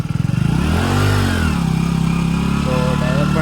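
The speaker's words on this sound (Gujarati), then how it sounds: "મિત્રો મેં બાઇક ચાલુ કરી દીધી છે" Motorcycle engine just started, settling from a rising rev into a steady, close, throbbing idle with a slight pitch wobble, heard alone without talk.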